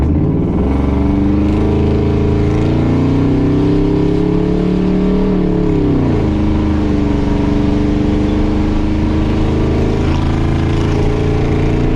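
An old, 26-year-old truck with 250,000 miles is driven at full throttle: a loud, steady engine drone rises in pitch for several seconds, dips, then settles into a sustained hard-pulling roar.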